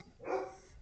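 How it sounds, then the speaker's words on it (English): A pet dog gives one short bark indoors at home. It sounds muffled and fairly faint, with quiet room tone before and after. "sorry, that's my dog"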